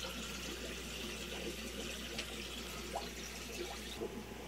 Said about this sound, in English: so water's filling